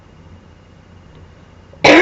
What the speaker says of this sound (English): Sorry, I'm gonna cough again.